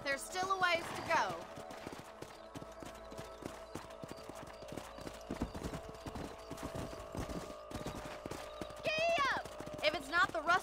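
In the Western video game Red Dead Redemption, horse hooves clip-clop at a steady trot while riding, with an occasional whinny, heard under a voice talking.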